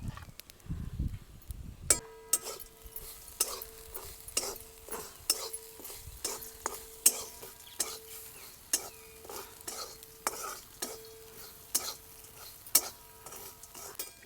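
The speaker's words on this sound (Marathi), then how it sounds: "ह्याला काय परतायला लय वेळ लागत नाही, लगेच परतती." Chili thecha being stirred and sautéed in a pan, a spoon scraping in a steady, repeated rhythm over a soft sizzle, close and fairly quiet, with no one talking.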